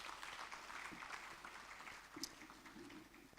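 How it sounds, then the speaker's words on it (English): Applause from a conference audience for a government minister at an Africa energy technology event, a soft, diffuse clatter of many hands heard at a distance and fairly faint, with a brief murmur of voices partway through. "Another round of applause for our Minister"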